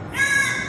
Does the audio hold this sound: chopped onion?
no